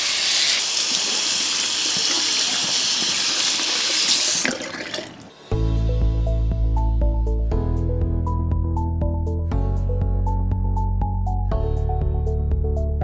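A tap runs hard into a sink as Mountain Man Skrub is rinsed off hands: a loud, steady gush for about five seconds that then stops, followed by music.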